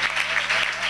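A church congregation clapping loudly together at a Sunday service, a brief burst of dense, continuous applause.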